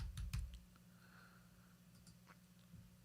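A computer keyboard is typed on in a few quick, faint clicks, with a short burst at the start and scattered taps afterward over a quiet room hum.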